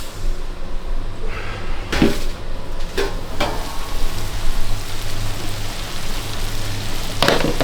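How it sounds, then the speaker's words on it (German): Onions and spices frying in a pan at a Bremen snack bar, a steady close sizzle with sharp clanks of a spoon or lid on the pan at intervals. "Das wird schnell ein bisschen gebraten."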